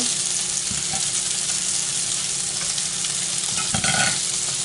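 Cooked shrimp with tails on being added and stirred in a sizzling pan for Cajun pasta, giving a continuous close frying hiss with a brief louder clatter of stirring near the end.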